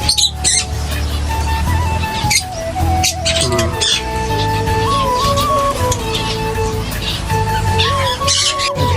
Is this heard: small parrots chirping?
yes